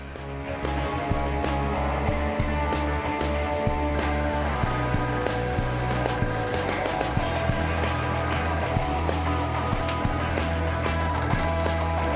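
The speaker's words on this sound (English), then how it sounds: "I'm going to set up and use my airbrush" An airbrush sprays grey paint onto a masked resin clone trooper helmet, giving a steady loud hiss with compressor-like drone and intermittent clicks and mechanical rattles throughout, no talking.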